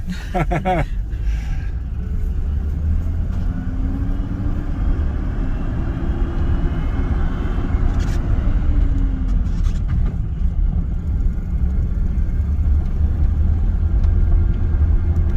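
A stick-shift Silverado pickup truck rumbles steadily from inside the cab as it drives, a continuous low engine and road drone with a faint rising gear whine, while people talk over it.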